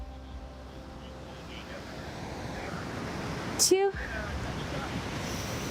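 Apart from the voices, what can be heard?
ocean waves at the beach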